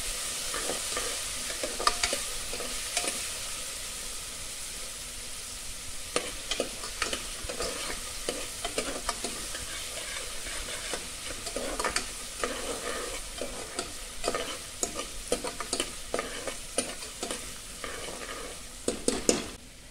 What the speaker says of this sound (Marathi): कांदा चांगला गुलाबी रंगाचा होईपर्यंत परतून घ्यायचा आहे.